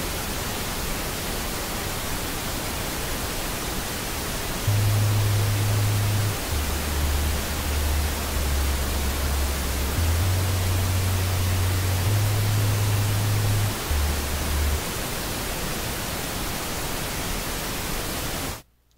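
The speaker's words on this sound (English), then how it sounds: "you turn on the pink noise and you want to raise each instrument so you can barely hear it cut through the pink noise" Pink noise test signal for mix balancing: a constant, loud, broadband hiss running throughout, with a quiet bass line barely cutting through underneath, then stopping abruptly at the end.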